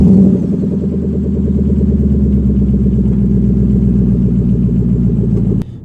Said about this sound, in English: The sound of a V8 turning on does not beat it.